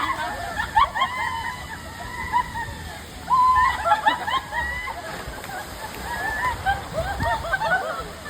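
A large volume of water falls and splashes at a water park, bursts of heavy splashing and sloshing with excited voices and shrieks mixed in throughout.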